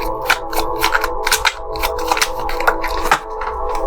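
Tarot cards being shuffled by hand, a steady run of crisp riffling clicks and soft slaps close up, with no talk over it.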